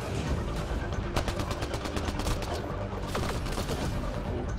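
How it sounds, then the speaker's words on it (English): Gunfire in the video game Mass Effect: Andromeda, with dense, continuous rapid shots and bursts that carry loudly through the whole stretch without a break. "Somebody shooting me from this way."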